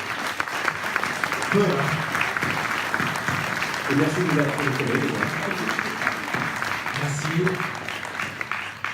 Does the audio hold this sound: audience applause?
yes